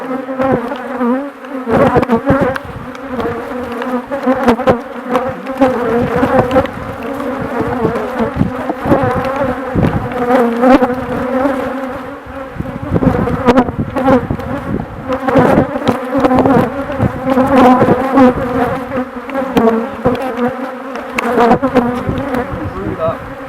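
Honey bees buzz loudly from an opened beehive during a treatment-free beekeeping inspection, a dense, continuous droning hum with pulsing swells of close wingbeats.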